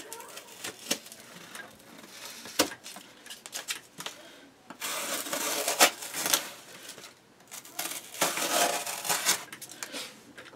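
A Steel Will Resident folding knife slicing through cardboard, giving rough tearing and crunching bursts with scattered sharp clicks, close and moderately loud, no talking.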